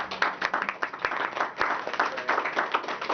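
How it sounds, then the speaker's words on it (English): Audience applause with many hands clapping in a steady, dense patter at moderate loudness, no voices over it. "she deserves an applaud for that"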